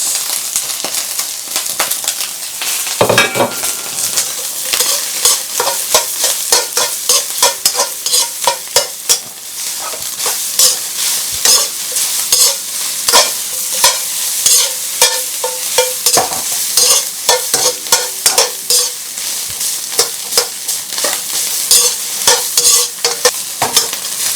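Garlic and mushrooms fry in oil in a pan with a loud, continuous sizzle, broken by frequent clatters of a utensil stirring and scraping, close up and with no talk throughout.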